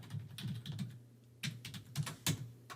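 Keys tapped on a computer keyboard during keyword research: quick irregular clusters of light clicks, close and quiet, with short pauses between bursts and no voice.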